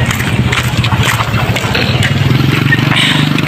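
A motorcycle engine idles and runs steadily at close range in a nighttime street setting. Its low rumble is continuous and loud throughout, with some background noise layered over it.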